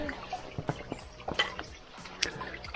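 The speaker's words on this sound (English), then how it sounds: "water just drips off of this growth." Quiet, irregular drips of water falling off plant growth on a trail in Madeira patter close by, each a small distinct plink scattered over a faint background.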